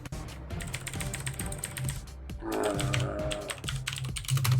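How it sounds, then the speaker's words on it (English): Rapid clattering keystrokes on a computer keyboard, an uneven stream of sharp clicks over a low background hum, briefly joined by a brighter burst of game sound midway, no voices. "He's typing something."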